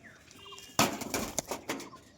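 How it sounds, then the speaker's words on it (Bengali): Two pigeons are let go and burst into flight with a sudden loud flurry of flapping wings, followed by several quieter wingbeat bursts fading over about a second. "তো বন্ধুরা এই যে দুটো পায়রা ছাড়লাম"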